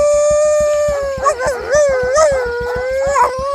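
A man imitates a dog's howl at night, his voice rising and wavering in long drawn-out wails over a steady rhythmic low thumping, loud and close.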